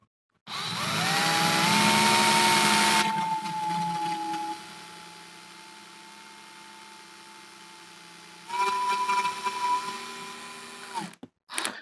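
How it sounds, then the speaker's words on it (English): An electric drill whirs in two bursts drilling a hole while installing a FULL THRUST SSG-24, a loud high whine easing into a steady motor hum, then stopping with a clatter. "Just set the drill there, put it on clockwise turning, and just drill the hole."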